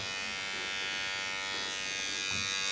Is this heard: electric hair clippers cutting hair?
yes